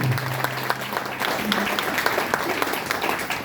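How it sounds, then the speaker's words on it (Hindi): An audience at a Keva industry program event applauds, a dense, sustained patter of many hands filling the room while a voice speaks over it. "आपके तरफ से जोरदार तालियां चाहूंगा टॉप 5 रनर ऑफ कीवा इंडस्ट्री के हमारे ग्रेट गुरु मिस्टर शहादत सर के लिए"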